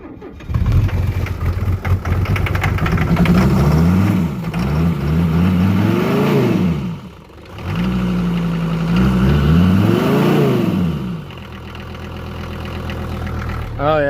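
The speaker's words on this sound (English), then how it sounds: "Throttle wide open, let's see if she cranks." 1978 Mercedes diesel engine cold starting with the throttle wide open: the starter cranks, the engine catches and revs loudly in two rising surges, then settles into a rough, clattering idle close by.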